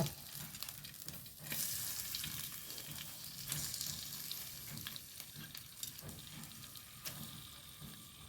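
Washed anchovies sizzling in coconut oil in a pan for a Kerala-style thoran, a soft steady crackle with occasional louder pops and stirring clinks, close but quiet, no voices.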